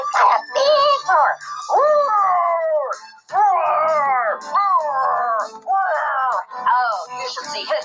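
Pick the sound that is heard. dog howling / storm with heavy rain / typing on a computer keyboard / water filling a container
dog howling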